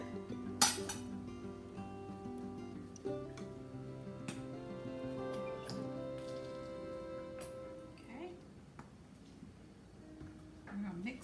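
Potato salad with mayonnaise and mustard stirred in a bowl, faint scraping with light clinks and taps of a utensil against the dish, soft and close under occasional talking.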